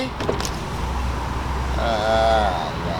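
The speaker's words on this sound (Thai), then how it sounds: "เอาละครับดูกระจกไฟฟ้าสิ" Power window motor in a BMW E46 323i whirring as the glass travels for under a second, a brief mid-pitched hum rising out of steady cabin background noise.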